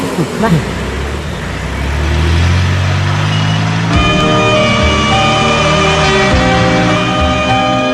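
A motor vehicle engine rumbles and then revs up steadily as it pulls away, loud and close, with a low droning hum and tonal whine continuing throughout.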